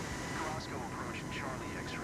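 A steady airplane engine roars in the video game Flight Simulator 2024, a constant broad rushing drone with faint shifting tones above it.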